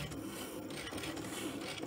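A Cricut Maker cuts bunny shapes from balsa wood, making a steady, close, continuous scraping and whirring grind with no break and no talk.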